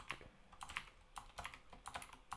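Computer keyboard typing in bursts of quick, light key clicks, with short pauses between runs of keystrokes, close and fairly quiet.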